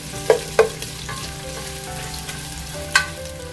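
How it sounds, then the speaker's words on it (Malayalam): Sliced onion sautés with salt in a hot pan, a steady close sizzle broken by a few sharp clacks and scrapes from stirring. "ഇനി അത് ഇതിലോട്ട് ഇട്ട് കൊടുക്കാം. എന്നിട്ട് കുറച്ച് ഉപ്പിട്ട് നന്നായി സോട്ട് ചെയ്യാം."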